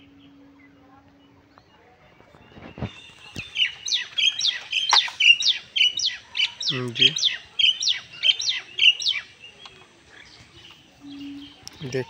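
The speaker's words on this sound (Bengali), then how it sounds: "বাচ্চা কবুতর দুটি।" Giribaz pigeon chicks give a run of high, thin chirps in quick repeated pulses, close and fairly loud, with a brief spoken word and some low background sound.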